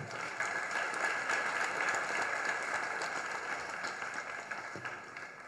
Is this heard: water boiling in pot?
no